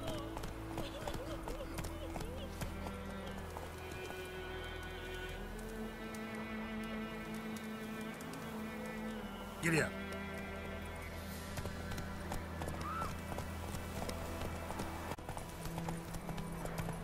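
Roach the horse gallops in The Witcher 3, with quick rhythmic hoof clops running under music and game voices speaking throughout.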